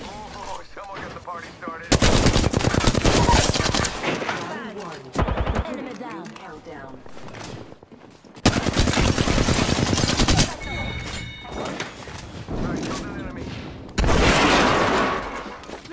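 Video game gunfire comes in loud, dense bursts of rapid shots separated by quieter gaps with reloading clatter, and voice callouts appear between the volleys.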